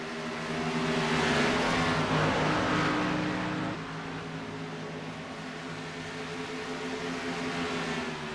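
NASCAR Xfinity Series race cars roll down pit road at Charlotte, their engines droning loudly with a steady harmonic whine that swells and then drops back as cars pass close by.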